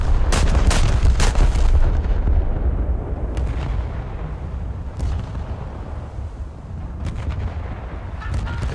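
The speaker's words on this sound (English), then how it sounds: "The Y turret has now come into its fire arc, but it's a little bit out of time with the rest of the guns" Italian battleship main turrets and secondary guns firing in War Thunder, a dense run of loud booming salvos with sharp cracks, several blasts at the start and scattered shots later, with no talk.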